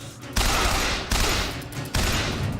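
Rapid machine gun fire in Bioshock Infinite, three loud, dense bursts of shots, each one cut off by a brief pause.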